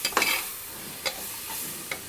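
Vegetables for vegetable pulao sauté in a pan, with a soft steady sizzle and a few light stirring scrapes, quiet and close.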